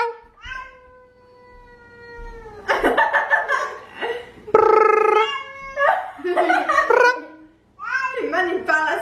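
A cat meows loudly and repeatedly up close, a series of long, wavering cries with short pauses between them.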